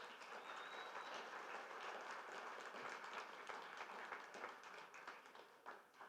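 An audience claps steadily throughout, a dense, sustained patter of many hands sounding faint and somewhat distant, with no voices over it.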